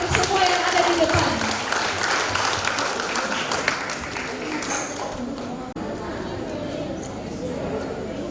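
Applause for performers at a church Christmas celebration, a dense wash of clapping that carries steadily throughout, with crowd chatter mixed in.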